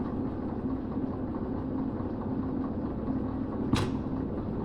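Locomotive engine idling in the train game Derail Valley, a steady low rumbling drone with one brief hiss-like burst near the end, no speech.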